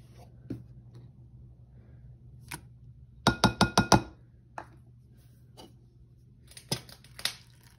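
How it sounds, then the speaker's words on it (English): A spoon taps and clinks against a glass while sourdough starter ingredients are mixed, a quick run of five sharp clinks mid-way with scattered single knocks before and after over a low steady hum. "now I'm going to dump everything in and mix it around."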